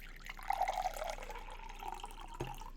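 Water pours and drips briefly, close and fairly quiet, with a few splashes and a small clunk near the end.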